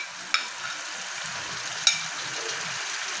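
Eggs and potatoes fry in a hot pan for an egg and potato curry. A steady close sizzle runs throughout, and two sharp clicks of a spatula against the pan mark the stirring. No one speaks.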